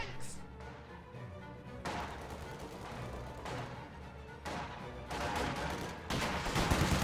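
Rifle gunfire crackles through a real-time strategy video game battle, with conscripts and guard rifles trading sustained volleys that swell in bursts and grow denser toward the end, set against a constant busy battlefield din.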